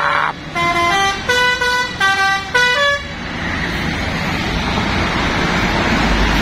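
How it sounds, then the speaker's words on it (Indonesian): Tourist buses at a roadside in Pasar Rebo sound loud, close telolet horns, several quick melodic tone sequences over about three seconds, then give way to steady road and engine noise from passing traffic. "Bus-bus pariwisata pun tak kalah telolet."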